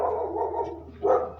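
A dog barks once at children on a farm with chickens, fairly faint and somewhat distant, over a low steady background hum.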